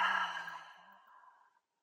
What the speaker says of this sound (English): you can do this in combination with taking a deep breath